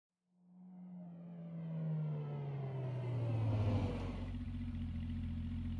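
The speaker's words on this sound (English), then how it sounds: "Suddenly the sound of a car engine broke the silence. It continued to grow louder, then came to a stop." A car engine in Street Fighter 6 rises from silence, a low drone climbing steadily louder as it draws near, then settles into a steady close idle as the car comes to a stop.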